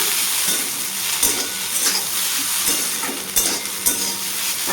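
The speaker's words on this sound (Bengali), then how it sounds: "এই যে দেখো আলু ভাজাটা করছি" Potatoes fry in a wok, making a continuous loud sizzle up close with occasional soft clicks and scrapes of stirring and no talk.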